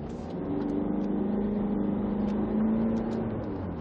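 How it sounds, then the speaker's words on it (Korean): Range Rover Evoque 2.2 SD4 diesel pulling under full throttle again, a steady rising engine drone heard from inside the cabin, swelling slightly toward the end. "다시 한번 밟아볼게요"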